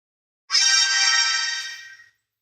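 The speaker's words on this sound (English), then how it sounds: "Yes, that was my phone." A loud phone alert ringtone sounds once, a bright tonal chime rising abruptly and holding for about a second and a half before fading, alone with no talk.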